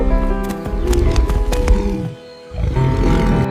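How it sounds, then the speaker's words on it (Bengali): A Royal Bengal tiger in a children's cartoon lets out loud, close roars, several growling bursts in succession followed by a short lull and another rumbling roar. "একটি রয়্যাল বেঙ্গল বাঘ হঠাৎ আক্রমণ করল"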